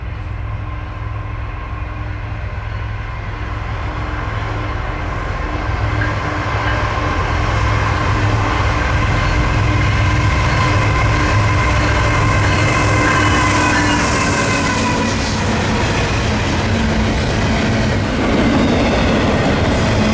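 Westbound Norfolk Southern freight NS269 rolls past on the Chicago Line. There is a loud, close, continuous rumble with steady wheel clatter and a faint metallic squeal building toward the end.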